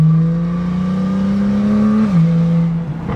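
A tuned BMW M2 engine drones steadily with a rising pitch, then drops sharply as it downshifts and the revs fall.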